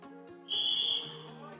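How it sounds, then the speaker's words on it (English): A referee's whistle blows once at a climbing competition semi-final, signalling one minute left: a single steady shrill blast of about half a second, loud and clear over a murmuring crowd and faint voices. "We've just heard the whistle go off."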